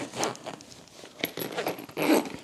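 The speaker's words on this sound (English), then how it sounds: "So now I'm gonna zip this compartment closed." Zipper on a compartment of a Monos hybrid carry-on bag being pulled closed: several close, raspy zipping strokes, with a louder final pull at the end.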